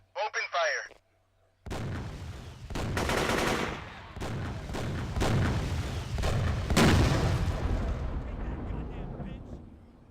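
Gunfire and artillery roar through a firefight in the tactical game ALFA Antiterror. A short electronic blip comes first, then a pause, then sustained loud bursts and heavy booming impacts that rumble on and slowly fade.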